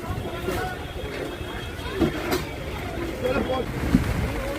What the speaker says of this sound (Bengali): বারে বারে হাওয়া দিচ্ছে, সব ঝুলমুল উড়ে চলে আসছে।